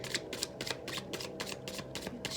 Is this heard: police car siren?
no